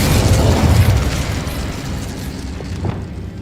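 Spell explosions from Confringo and Incendio cast in Hogwarts Legacy, a loud sustained burst of booming rumble that swells at the start and slowly fades, with a few smaller pops near the end.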